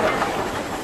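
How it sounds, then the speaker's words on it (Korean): A train rushing loudly past, a dense, steady roar of rail noise with hiss and rattling wheel clatter filling the whole short moment, close and unbroken. "열차가 요란스럽게 지나갔다"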